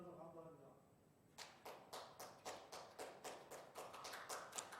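A burst of steady, rhythmic hand clapping fills a district council plenary session chamber, about ten evenly spaced claps that begin after a short stretch of a voice talking.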